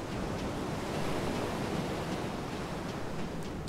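Steady ocean surf washes continuously in the fantasy role-playing game Lost Odyssey, a dense, even roar of breaking waves with no talk over it.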